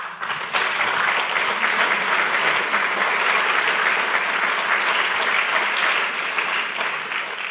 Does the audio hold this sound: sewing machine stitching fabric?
no